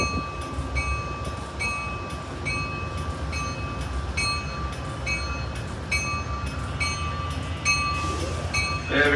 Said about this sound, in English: the 409 heads south off the platform and will enter the New Haven Amtrak yard